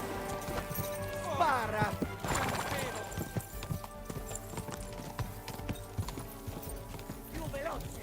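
Rapid clip-clop of a horse galloping in a video game, loud and steady, with brief whinny-like cries, under excited shouting from a player and game characters.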